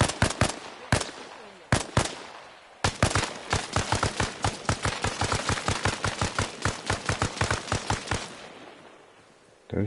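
Rapid bursts of gunfire in Arma Reforger: a few separate shots, then a long run of sharp, loud, evenly spaced reports, ending in a short quiet stretch.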